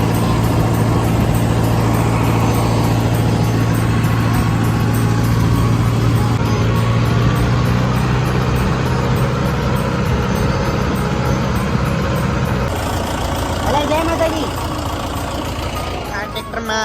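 A tractor engine rumbles loudly and steadily from the cab during the ride. Its low drone holds throughout, and someone talks over it.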